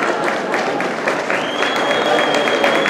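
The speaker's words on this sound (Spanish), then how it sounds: "Fuerte el aplauso." Audience applause at a gala dinner, a sustained wash of clapping from a crowd, loud and continuous, with a voice calling out over it.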